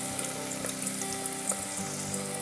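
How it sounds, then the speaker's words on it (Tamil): Onions fry in a mix of ghee and oil over medium flame for vegetable biryani, giving a steady close sizzle with faint stirring and a low background hum, no voices. "வெங்காயம் போட்டு வெங்காயம் நல்லா வந்து அந்த நெய்யிலே எண்ணெயிலே நல்லா வந்து கொஞ்சம் ஃப்ரை ஆகட்டும்."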